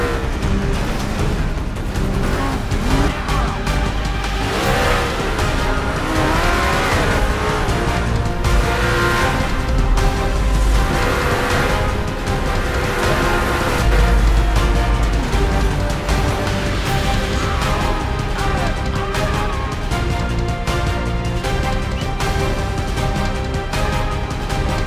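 A car in the video game GTA 5 drives hard and gets wrecked, a dense, continuous mix of engine noise, game sounds and impacts at steady high loudness for the full stretch, with no talk.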